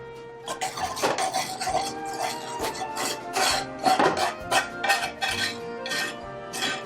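A potato starch slurry is stirred into a boiled sauce in a pot with the heat off, producing repeated metallic clinks and scrapes of a utensil against the pot in an uneven rhythm, close and without talk.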